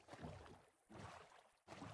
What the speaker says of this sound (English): Hop back in our boat.